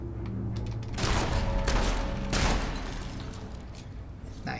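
Rapid gunfire from a weapon in the video game Fable III comes in dense bursts of shots. The bursts swell and fade over a steady background mix, fairly loud and with no talking over it.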